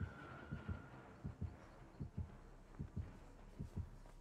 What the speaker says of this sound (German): Ich hab Herzklopfen.